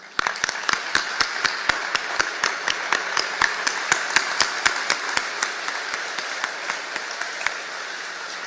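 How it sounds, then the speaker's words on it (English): Applause for the NCOs at a naval Pacific Fleet change of command ceremony: crisp, evenly spaced claps ring out across a large outdoor gathering, loud and steady before tapering slightly toward the end. "I'd like to offer a warm round of applause, please"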